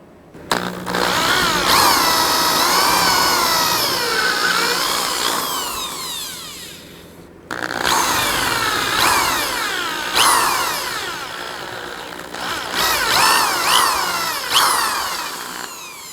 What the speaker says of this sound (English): just drill by hand.